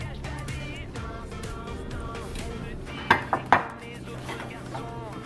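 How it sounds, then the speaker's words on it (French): Diced tomatoes and cucumbers stirred in a dish with a utensil, soft scraping followed by three sharp clinks of metal against the bowl near the middle, close and fairly quiet. "Ajoutez les tomates en cubes et mélangez."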